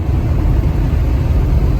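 Steady, loud low-pitched engine roar from inside a Chevy car accelerating on a test drive in Long Beach, a continuous rumble without any talking.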